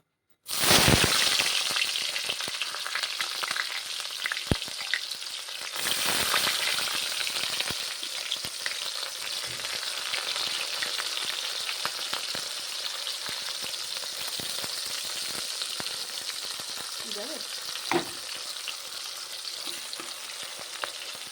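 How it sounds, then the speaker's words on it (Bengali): Onions fry in hot oil with a loud, continuous crackling sizzle that begins abruptly, with occasional sharp pops and stirring scrapes throughout. "এখন পেঁয়াজগুলো ভেজে নিতে হবে"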